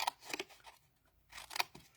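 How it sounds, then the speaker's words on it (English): Scissors snip through cardstock while trimming the angled corners of a heart-shaped paper box, a few quick faint cuts in a quiet room. "So we're just going to trim off trim those angles."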